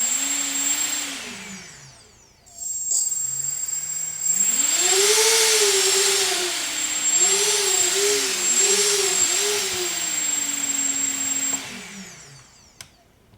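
Small FPV quadcopter motors whine up and down in pitch as the throttle is pushed, a rising and falling electric hum with several surges, fairly close and with no talking.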